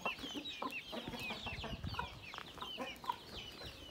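Broody hens cluck and chatter continuously, several birds close by with overlapping short calls and occasional louder squawks.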